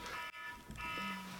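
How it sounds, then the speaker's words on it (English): Alarm beeping indoors in a room, a steady electronic tone with a brief break partway through, moderately loud and heard without speech. "the alarm's going off over there"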